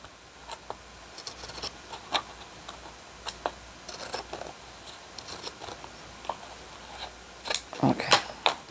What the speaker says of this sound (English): maybe this side I'll pink, using pinking shears, just so it has a little decorative edge